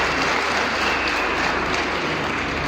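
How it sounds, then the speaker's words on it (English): An audience at a university student orientation claps hands in a continuous, loud wash of applause filling the room from start to finish. "Can we clap hands for him, please?"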